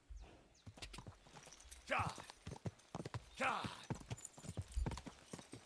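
Horse galloping in Kingdom Come: Deliverance II, a steady rhythm of clopping hooves with snorting breaths, close and moderately loud beneath someone talking.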